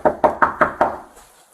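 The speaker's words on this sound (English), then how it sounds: "how would you know we're knocking on the door?" Police pound on an apartment door with five hard, evenly spaced knocks, loud and near, fading into quiet with no voices.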